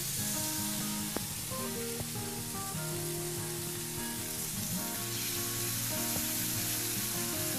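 Halved pork tenderloin sizzles steadily in a hot pan, a constant bright frying hiss with occasional small clicks and taps, and no talk over it.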